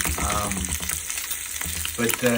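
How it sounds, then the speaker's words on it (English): Bacon fries in a pan in Malaga, Spain, a close, steady crackling sizzle broken by brief voice fragments and a soft stirring scrape. "So I'll keep frying, and we'll see how this goes."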